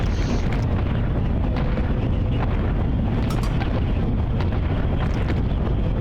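Relentless artillery shelling in the zombie strategy game Atom Zombie Smasher, a dense, continuous low rumble of overlapping blasts and booms filling the whole stretch with no pauses.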